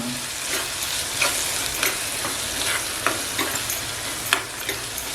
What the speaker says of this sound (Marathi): कांदा टॅमॅटो एकदम मस्त फ्राय झालेले आहे